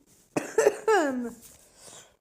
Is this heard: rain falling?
no